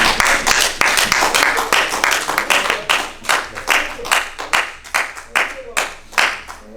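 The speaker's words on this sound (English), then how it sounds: "we ought to just give God a hand clap of praise for that" A church congregation claps hands in praise, a loud, dense run of rapid claps that gradually thins into more separated, uneven claps.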